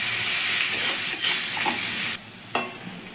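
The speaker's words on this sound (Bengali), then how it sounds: "পেঁয়াজটা একটু ভাজা ভাজা করে নেব।" Onions and white cumin seeds fry in hot oil, a steady close broadband sizzle with stirring scrapes, dropping briefly quieter toward the end before a short burst of frying returns.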